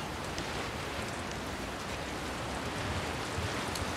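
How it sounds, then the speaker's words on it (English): Steady, dense rain in a video game, The Last of Us Part II, hisses evenly throughout, a continuous wash of falling drops with no voices or other distinct sounds. "Oh, now it's raining."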